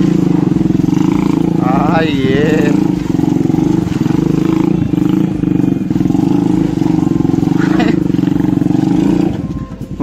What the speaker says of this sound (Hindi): इंजन पता है मुझे होंडा का इंजन लग रहा है इसमें